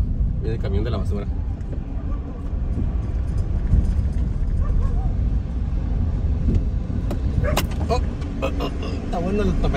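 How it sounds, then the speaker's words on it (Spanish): A garbage truck rumbles past on a city street, a low engine roar close by and swelling near the end, with a person talking over it. "El camión de la basura."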